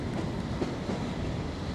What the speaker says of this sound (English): We can look down onto the cut and cover trains below.